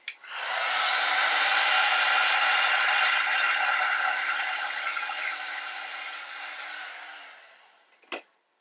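A heat gun blows a steady, loud broadband rush of hot air onto vinyl wrap being applied to a fish tank, running continuously for about seven seconds before cutting off, followed by a brief knock.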